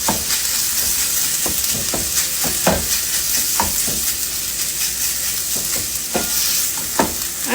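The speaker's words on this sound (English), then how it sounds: "And now I'm cooking about a 1/2 pound of Jimmy Dean sausage" Half a pound of Jimmy Dean sausage fries in a pan with a steady, close sizzle, broken by sharp scrapes and clanks as it is stirred and turned.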